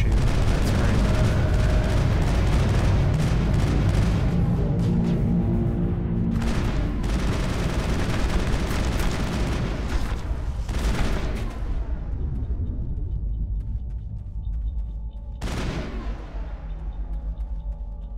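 Rapid weapon fire and booming impacts in Mass Effect, dense volleys tapering into sparser echoing shots and distant rumbles, with a voice talking over parts of it.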